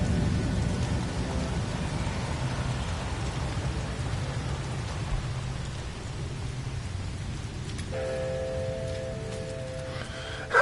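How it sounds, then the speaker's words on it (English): Steady acid rain hisses and patters on an alien planet in No Man's Sky, a continuous storm wash with low rumbling underneath, then a few faint electronic tones near the end. "It's only a bit of acid rain."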